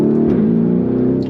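A 2021 Lamborghini Urus engine revs loudly and steadily up close, a deep throaty drone with rising harmonics, no voices present.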